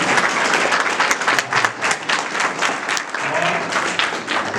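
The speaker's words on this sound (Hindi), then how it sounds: "किशन जी के लिए विशेष ताली भैया" A theatre audience claps warmly for a local teacher at a stage event, dense sustained applause from a crowd nearby with no speech over it.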